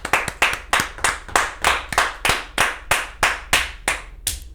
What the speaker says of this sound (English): And then everyone clapped